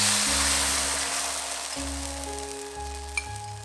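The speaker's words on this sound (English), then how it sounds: "Bring this to a boil and let it simmer for about 2 to 3 minutes." Three-cup chicken sauce with its seasoning sizzling and bubbling in a pan, a steady hiss up close with a low hum running underneath.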